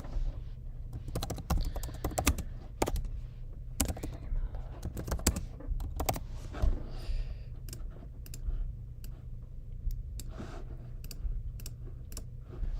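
Quiet, close typing on a computer keyboard at a day-trading desk, with irregular bursts of key clicks and short pauses over a low background hum.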